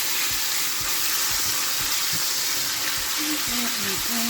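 Tooloo cured beef sizzling in a frying pan, a steady hiss of frying that fills the clip, with soft clinks and a low voice speaking briefly near the end.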